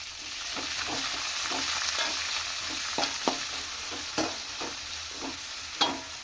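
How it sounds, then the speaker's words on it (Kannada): Onion and tomato fry together in a pan for bisibele bath, a steady broad sizzle with repeated scraping stir strokes of a spatula clicking against the metal, close and fairly quiet, with no voices. "2 ಒಟ್ಟಿಗೆ ಹಾಕಿ ಫ್ರೈ ಮಾಡಿಬಿಡ್ತೀನಿ."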